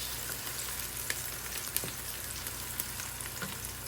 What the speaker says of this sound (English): So we want to fry this up until it's brown or brownish.